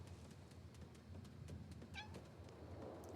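A cat in the Infinity Nikki video game gives a single short meow midway, faint and set against a quiet bed of ambient game noise.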